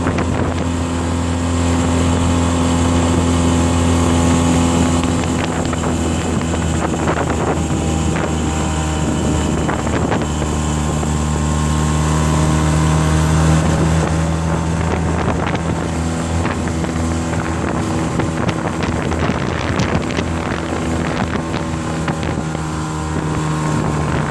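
A small boat with a tiller-handle outboard motor planes at speed across the water, its engine a steady loud drone mixed with wind buffeting and hull slaps throughout.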